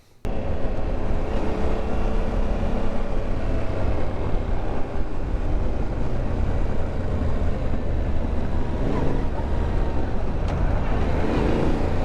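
A Yamaha Tenere 700 adventure motorcycle on a test ride, its steady engine drone and wind rush filling the recording at close range with no break.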